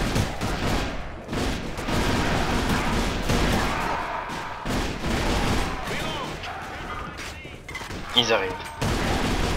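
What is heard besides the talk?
gunfire and grenades in video game Alliance of Valiant Arms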